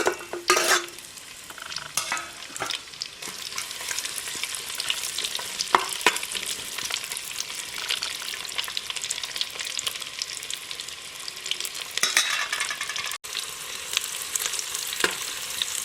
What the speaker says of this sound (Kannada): ಆದಷ್ಟು ಮೀಡಿಯಂ ಫ್ಲೇಮಲ್ಲಿ ಇಟ್ಟು ಹುರಿಯಬೇಕು